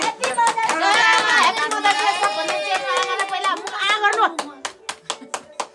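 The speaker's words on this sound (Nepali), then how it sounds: "ताली बजा सबैजनाले" A group claps hands together for a Mother's Day celebration, dense applause over chatter and children's voices for several seconds, then tapering into a handful of separate, spaced claps near the end.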